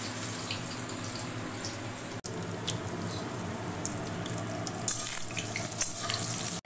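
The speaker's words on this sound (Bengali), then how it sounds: "চলো আমি এগুলোকে ভাজি, আর ভাজি আর রান্নাটা আপনাদের দেখাবো।" Garlic fritters (rosun bora) frying in a pan give a steady, close sizzle with crackling and spitting that runs on with no talk.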